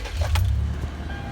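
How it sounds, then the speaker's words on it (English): An automatic car with a shifter stuck in park starts and idles, a low engine rumble close by with a brief click and jangle near the start, steady and alone without talk. "The car starts perfectly"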